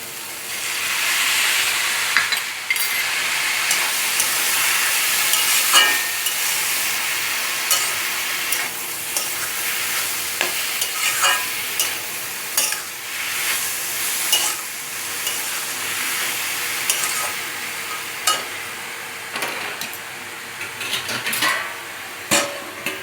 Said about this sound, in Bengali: এই মশলাটা দিয়ে আবার কষাই